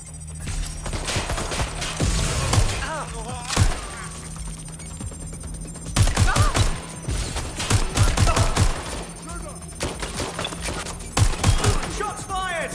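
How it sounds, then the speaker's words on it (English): Gunfire in the video game Watch Dogs Legion comes in loud, sharp bursts and rattling volleys, broken by short pauses, with voices calling out between and under the shots. "Shots fired!"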